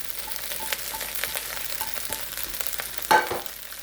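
Bacon fried rice sizzling steadily in a hot pan as scallion goes in, a constant close frying hiss with soft stirring scrapes and a brief louder rustle near the end, no talking.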